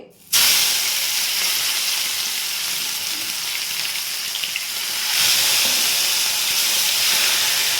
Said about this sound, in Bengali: সেই মাংসটা আমি এর মধ্যে দিয়ে দিচ্ছি আস্তে একটু কমিয়ে দিলাম নালে খুব ছিটবে